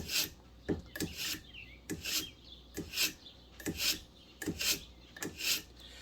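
A blade is drawn again and again through a sharpener, giving about eight rough, rasping strokes in a steady rhythm. The scraping is close and moderately loud, with no talking.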